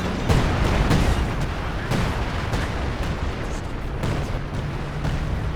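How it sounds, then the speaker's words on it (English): Assault artillery barrage in Company of Heroes 2, a dense, loud rumble of repeated booming shell impacts and explosions rolling on continuously, with no talking over it. "Assault artillery coming in on the other side."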